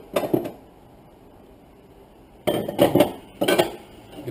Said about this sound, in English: Get the right lid for the pan.